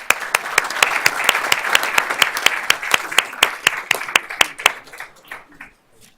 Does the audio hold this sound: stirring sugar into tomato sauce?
no